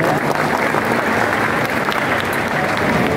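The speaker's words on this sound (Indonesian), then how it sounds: "Tepuk tangan buat Pak Gubernur." Dense, steady audience applause for the governor of West Java at a formal ceremony, a thick continuous roar of many hands clapping throughout.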